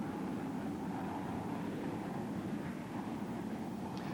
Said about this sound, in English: the RAF's Nimrod anti-submarine and maritime patrol aircraft